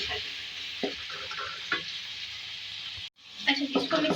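Spices being stirred into potato and cabbage in a karahi, a steady scraping sizzle with intermittent spoon knocks and a brief pause near the end before the stirring resumes.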